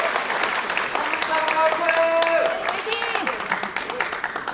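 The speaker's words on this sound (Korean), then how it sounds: "여러분 이제 박수 한번 쳐주시기 바랍니다." Audience applause at a Korean Rotary club gathering, scattered clapping mixed with a speaker's voice and some tonal background sound, moderately loud and continuing throughout.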